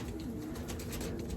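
Pigeons coo in a continuous, close, murmuring chorus, low throaty calls overlapping without pause.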